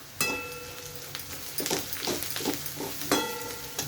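Onion tempering frying in oil with asafoetida and turmeric added, a close crackling sizzle with sharp spoon clinks against the pan and busy stirring over a few seconds.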